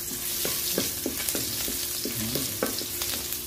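Garlic frying in hot oil in a pan for fish with oyster sauce, a steady close sizzle with repeated light scraping strokes of a stirring utensil.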